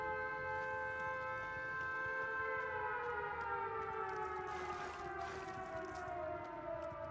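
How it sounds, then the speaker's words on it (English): A sustained siren wail from the Dead by Daylight video game sounds steadily over a low game rumble for the whole stretch, its layered tones gliding slowly downward and holding at an even, moderate level. "It's weird that the siren makes all the sound quieter."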